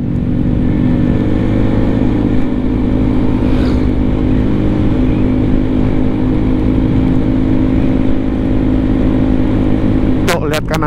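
A truck rumbles past at night on the Trans-Sumatra highway through forest, a steady loud engine drone filling the whole stretch with voices from inside the car layered over it.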